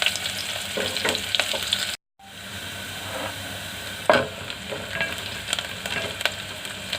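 Chopped red chili and onion frying in hot oil in a pan for methi khichdi, a continuous close sizzle with stirring scrapes and clinks, briefly cut to silence partway before the sizzling resumes.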